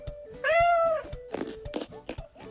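A cartoon cat in the Toca Boca World video game gives one clear, close meow, followed by soft thumps and brief game sound effects.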